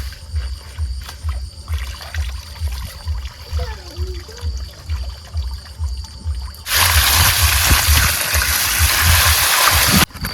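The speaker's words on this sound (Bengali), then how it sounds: "আর সেই মাছ কিন্তু এখন আমি ধুয়ে নিচ্ছি" Tap water runs while koi fish are washed in a home kitchen, first a soft trickle with light handling sounds, then a loud steady gush of running water for the last few seconds.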